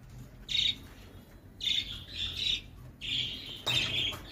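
A young sparrow chick squawks on a bird farm in short, shrill bursts, about four separate calls in quick succession, close and fairly loud over quiet background.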